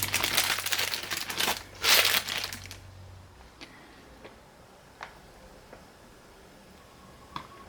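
Soap batter is squeezed from a piping bag: a few seconds of close, crinkly, squishing plastic noise, followed by quieter scattered ticks and taps.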